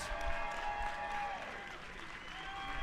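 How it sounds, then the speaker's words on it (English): A fight-night crowd applauds both fighters after a co-main event bout, a dense, steady wash of clapping and crowd noise that holds for the full stretch, loud and close. "Massive round of applause for both fighters in our co-main event."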